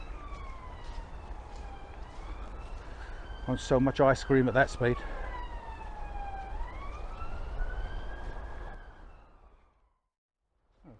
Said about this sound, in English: There you go, sirens.